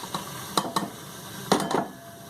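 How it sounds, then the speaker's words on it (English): Raw minced beef, about a pound, tipped from a pan into a bowl in a home kitchen, giving a few soft scraping, clattering bursts of spoon and metal against the dish, close and fairly quiet. "I'm just going to tip that now into this bowl"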